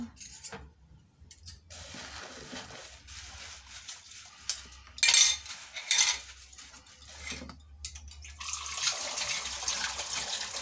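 Dishes washed by hand in a home kitchen in the morning, with cutlery and plates clinking under running tap water in irregular bursts, close by, with no talk.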